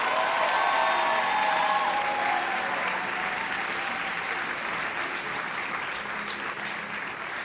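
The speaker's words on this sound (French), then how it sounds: "Est-ce qu'on peut les applaudir plus fort que ça?" An audience at a graduation ceremony claps for the graduating students in a dense, sustained round of applause that fades slightly over time, with no speech over it.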